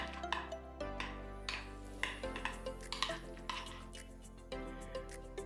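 Spoon stirring and scraping in a bowl as minced garlic is mixed into a mashed chicken taquito filling, quiet repeated clinks and scrapes under a steady background hum.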